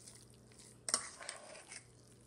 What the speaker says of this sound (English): I am going to pour this tomato sauce in and mix that up